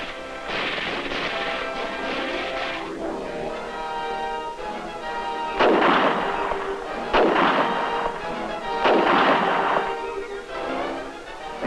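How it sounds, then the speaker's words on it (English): Heavy weapons fire during an army exercise in Taiwan: a series of loud, booming blasts in separate bursts, some rolling and echoing, with quieter gaps between them and no talking. "As the enemy fights to defend the bridge, the Chinese bring up their heavy weapons."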